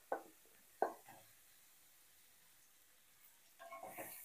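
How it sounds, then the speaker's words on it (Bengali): Fried potatoes get stirred into spice paste in a pan with a few scraping, clattering strokes, then a soft sizzle rises near the end. Everything is quiet and close, with long near-silent gaps between the stirs. "এখন মশলার সাথে আলুগুলো কিছুক্ষণের জন্য কষিয়ে নেব"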